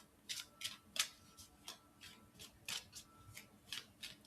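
Moonology oracle cards being drawn and shuffled from a deck, a series of soft, quiet card slides and flicks in an irregular rhythm, close up with no talking.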